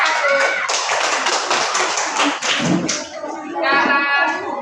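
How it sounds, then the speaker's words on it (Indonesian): A classroom of children claps for a group of students, a loud, dense burst of hand claps with some taps and thuds, easing briefly before picking up again. "tepuk tangan untuk kelompok 1"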